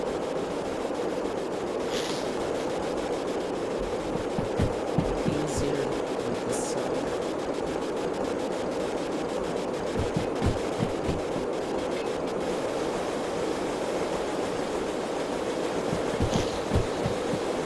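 A steam locomotive in the video game Derail Valley runs with a continuous low rumble and rolling, throbbing rail noise, with faint rhythmic knocks and a few brief hissing bursts over the steady drone.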